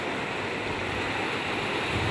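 Ocean waves roll onto a beach in a constant loud wash of surf, mixed with wind buffeting the microphone, with no voices.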